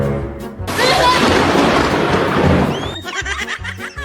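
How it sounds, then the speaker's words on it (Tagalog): Sudden thunder from a nearby lightning strike bursts out loud and rumbles with a broad roar for about two seconds, then fades. A voice and rain can be heard around it. "Kidlat na bigla."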